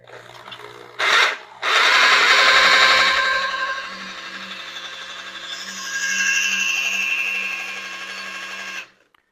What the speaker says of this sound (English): I got a plug in the wall drill that has a keyed chuck